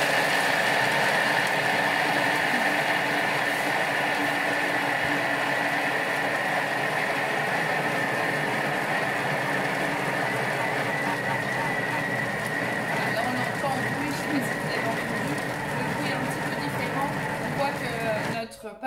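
A Thermomix whirs steadily for about 20 seconds at speed 6 while mixing galette des rois dough, a continuous dense motor hum that stops abruptly at the end; a voice talks over it.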